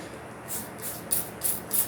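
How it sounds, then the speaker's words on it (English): Five quick hissing bursts of a spray bottle misting the soil of superhot pepper seedlings, close by, in a quiet room. "I'll lightly spray the top of it."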